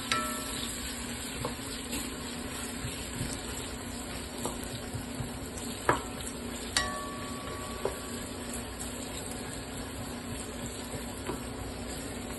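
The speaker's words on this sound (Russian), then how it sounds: "Обжариваем лук" Onion fries in a pan for Uzbek plov, with a steady low sizzle, a constant hum from a running extractor hood and a few sharp clinks and scrapes of stirring.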